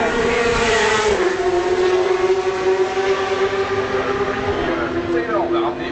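Corvette race car engine at the 2013 24 Hours of Le Mans, a loud, sustained howl whose pitch shifts as it passes, under a commentator's voice.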